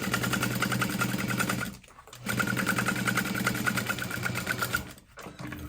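A sewing machine stitches fabric in fast, rhythmic bursts, close and fairly loud, pausing briefly twice before resuming its steady rattling hum.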